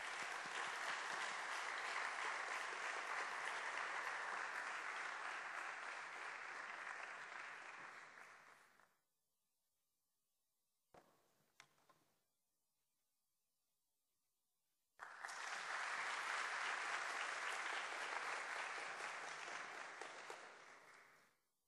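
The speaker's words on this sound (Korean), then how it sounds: "박수로 환영하겠습니다" Students at a school chapel service applaud to welcome a speaker to the stage, a long, full round of clapping that fades out, then a near-silent pause with a brief thump, then another burst of applause.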